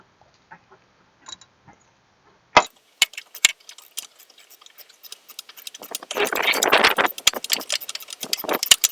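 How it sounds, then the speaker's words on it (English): Ratchet turning a nut on a car strut during a strut replacement: sparse, sharp clicks that grow into quick rhythmic clicking with a brief dense metallic rattle, close and clear. "And just do it on the ratchet."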